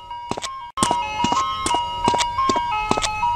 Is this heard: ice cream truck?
yes